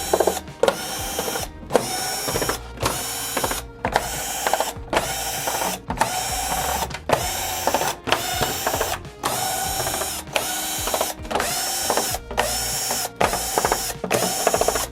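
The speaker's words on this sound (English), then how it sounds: "Now I'm gonna do the perimeter screws." An electric screwdriver backs the perimeter screws, for both plastic and metal, out of the rear cover of a Sony XBR-55X810C TV. Loud whirring ratchet bursts come close up, one after another in a steady rhythm, with short pauses between them.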